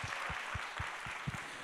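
Applause from a church young-adults worship congregation, a continuous wash of clapping held at steady loudness, with a few lower thumps recurring through it.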